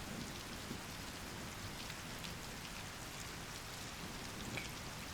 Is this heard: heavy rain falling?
yes